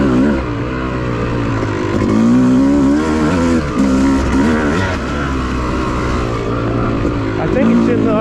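An off-road trail vehicle's engine runs steadily with a rich, rumbling exhaust burble, loud and close, holding a fairly even idle with slight swells.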